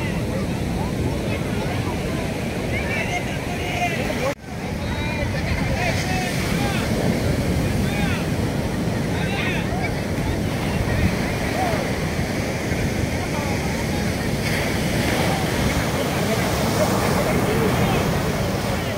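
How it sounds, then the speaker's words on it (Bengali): Rough ocean surf crashes at Puri beach in a steady, loud roar of breaking water, with gusty wind buffeting the microphone and a brief dip partway through. "আজকে প্রচন্ড ঢেউ।"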